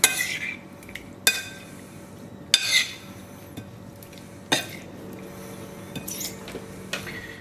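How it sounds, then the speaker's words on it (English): Spoons clink and scrape sharply against a bowl as dill is stirred into a shrimp salad with cucumber, the metallic knocks landing roughly every second or so in a quiet kitchen. "In goes the dill, and again I will stir it up here"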